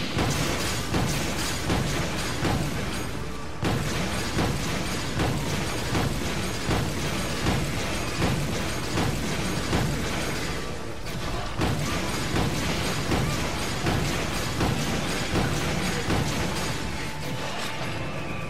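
Heavy gunfire from a Vulcannon-type bowgun in Monster Hunter 3 Ultimate, a loud dense barrage of booming shots and bursts that keeps going almost without a break, with two short dips in the roar.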